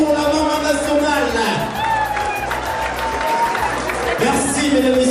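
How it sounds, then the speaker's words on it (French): Loud crowd applause at an anniversary gala, dense steady clapping with cheers and murmuring voices filling the hall throughout. "Est-ce qu'on peut applaudir très fort pour la maman nationale?"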